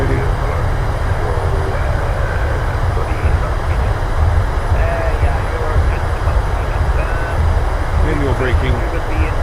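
A PMDG 737-800 in Microsoft Flight Simulator with thrust reversers deployed after touchdown: a loud, steady broadband jet roar that fills the whole stretch, with a voice speaking over it.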